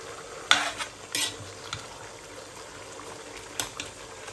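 Pork adobo seasoned with black pepper is stirred in a pan: a few sharp spoon scrapes and clatters stand out over a low, steady sizzle, with no talking.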